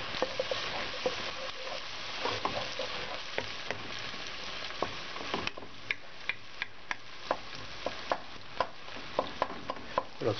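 Onion and garlic sauté in oil in a pan, a soft steady sizzle with scattered crisp ticks and pops, plus light stirring clicks throughout, fairly quiet and close.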